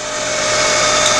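Air blown across the gap between a pair of machined graduated blocks produces a loud, steady broadband rush with a faint thin whistle tone running through it, continuous and close for its whole length.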